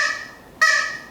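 A toy chicken lets out two loud, close, nasal honking squawks, the second following sharply after a brief dip, with no talking.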